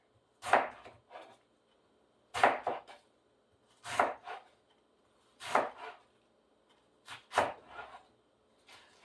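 A knife chopping cabbage into strips on a cutting board, five or six crisp crunching cuts spaced about every two seconds, each a quick double thud, close and clear in a quiet kitchen.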